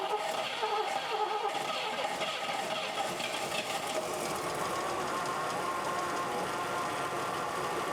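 A drag car engine idling steadily close by, a dense even mechanical rumble with a faint rhythmic patter throughout and no distinct ticking.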